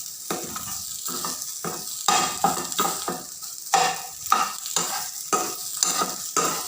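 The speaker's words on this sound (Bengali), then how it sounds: "একদম মচমচে করে ভেজে নিলাম।" Chicken for shawarma fries crisp in a pan, with rhythmic bursts of loud sizzling and scraping as it is stirred and tossed about a dozen times; close, no speech.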